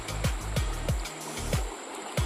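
Flowing water from a clean river in Lucban, Quezon runs as a steady wash, broken by several sharp splashes and knocks at regular intervals, fairly close with no talk.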